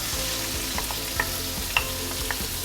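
Marinated minced pork sizzles and fries steadily in a hot pan with fried garlic, a continuous close crackle broken by a few sharper pops and stirring scrapes.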